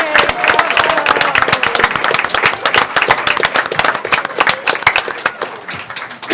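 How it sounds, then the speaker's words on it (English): Lively audience applause at an East Brunswick Board of Education meeting, with dense, crackling clapping from many people that stays loud and continuous throughout, easing slightly near the end. "Come on, big round of applause,"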